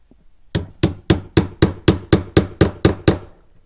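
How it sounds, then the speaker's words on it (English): Ten sharp metallic hammer taps in a steady, even rhythm, close and fairly loud, after a brief quiet start. "We're going to use our hammer again."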